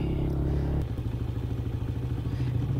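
Motorcycle engine idling and running close by, a steady low chugging putter with some clattering, unaccompanied by talk.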